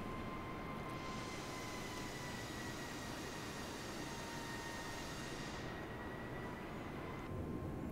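An airliner on landing approach in dense fog near Sialkot in a flight simulator, a steady roaring engine and airflow drone with a faint whine, holding constant at moderate level throughout.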